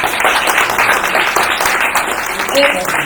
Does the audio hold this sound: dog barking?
no